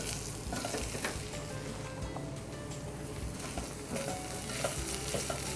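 Sweet potato pieces tumble into a pan of softened, translucent onion, followed by a steady close sizzle with scattered scraping stir sounds, for a soup.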